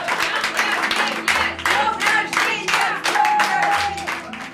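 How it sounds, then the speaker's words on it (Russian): Rhythmic clapping from a gathered audience honouring a birthday celebration for an honorary citizen of Voskresensk district, steady bursts roughly every half second mixed with some tonal background sound. "и аплодисментов в ее честь"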